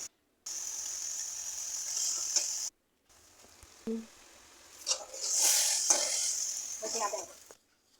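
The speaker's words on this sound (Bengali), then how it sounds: "সস দেওয়ার পরে কালারটা চেঞ্জ হয়ে যাবে তারপর ভালোভাবে নাড়াচাড়া দিয়ে কিছুক্ষণ শুকনো শুকনো করে" Noodles being stirred with sauce in a hot pan, a steady sizzle with scraping and stirring strokes, broken by brief pauses, close and fairly loud with no talk.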